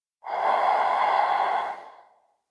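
A single long, deep exhale during a restorative yoga session, close and breathy, swelling quickly then fading out over about two seconds in an otherwise silent room.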